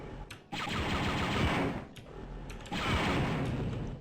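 Auto turrets in the classic DOS game Dark Forces fire in long rapid bursts of blaster shots, loud and close, with a short break between two sustained volleys.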